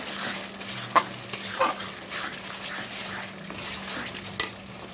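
Spice paste for a mutton and potato curry is sautéed with a little added water. It makes a continuous moist sizzle, with a few distinct clinks of a spoon against the pan, close by and without speech.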